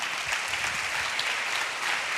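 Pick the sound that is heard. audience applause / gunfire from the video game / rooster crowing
audience applause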